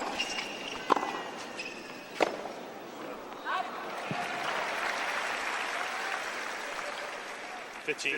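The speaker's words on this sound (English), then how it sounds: "applause for him as Djokovic serves 1-2" Tennis crowd at a Djokovic–Federer match applauds steadily, a broad swell of clapping that builds mid-way, with scattered sharp ball or footstep thumps and voices talking over it.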